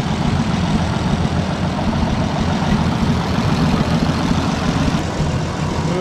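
Oliver tractor engine idling steadily as it runs down on its last fuel, a loud, rough low rumble that continues unbroken up close.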